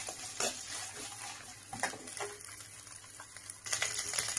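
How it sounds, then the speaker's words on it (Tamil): Onions being stirred with ginger garlic paste in a hot pan, a steady scraping stir with light sizzling and occasional utensil knocks against the metal, close and continuous, with no talking. "கொஞ்சமா இஞ்சி பூண்டு விழுது சேர்த்துக்கறேன் இது சேர்த்துட்டு கொஞ்சம் நல்லா mix பண்ணி"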